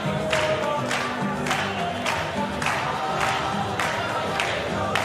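A crowd at a World Cup of Pool match reacts with rhythmic clapping and cheering, a dense steady wash of claps and voices held at a lively level throughout.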